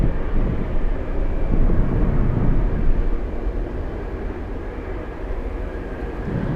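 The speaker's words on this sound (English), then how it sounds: "Next one coming in is a Saab 2000 flying in from Homer, a 26-minute flight." A Saab 2000 turboprop arriving at Anchorage on a gusty day, a broad low engine roar at steady loudness blended with wind rumble, easing slightly toward the end.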